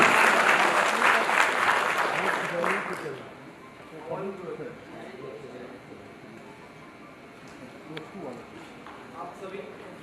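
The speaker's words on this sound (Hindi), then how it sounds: "इनकी प्रतिभा को लेकर के एक बार जोरदार ताली।" Loud applause from an audience at a national summit in Delhi, filling the first three seconds before fading into quieter scattered claps and murmuring voices.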